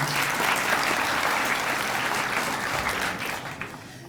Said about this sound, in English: Give her a round of applause as well.